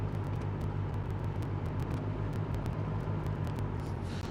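The engine of a Cessna 172 light aircraft runs at a steady low rumble during the pre-flight run-up, droning loud and constant the whole time with faint ticking above it and no talking.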